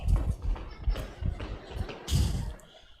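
Horse hooves clip-clop in a steady, fairly close rhythm of repeated thuds over about three seconds, with no talk over them.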